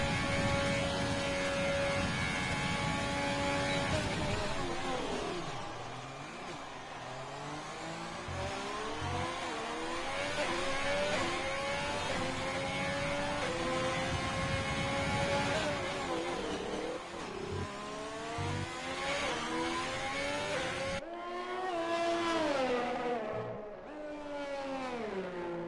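Onboard engine of a Haas Formula 1 car in a racing video game during qualifying at the Vietnam GP, a high-pitched screaming engine rising and falling through gear changes, loud and continuous with sharp upshifts and revving.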